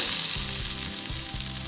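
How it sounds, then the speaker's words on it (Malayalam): Coconut roasts in a little oil in a pan, giving a bright, steady sizzle and hiss close to the listener, with no one talking over it. "തേങ്ങ വറുക്കാൻ പോവാണ്"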